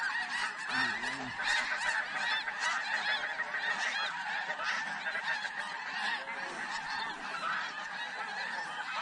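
A flock of snow geese honks steadily in flight over a hunting spread, a dense chorus of overlapping calls that continues without a break and stays fairly close and loud throughout.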